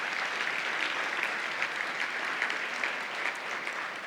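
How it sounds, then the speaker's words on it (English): A luncheon audience at a community awards event applauds sponsors, a steady, even stretch of many hands clapping that stays moderately faint and distant throughout, with no talking over it. "Please give them a round of applause."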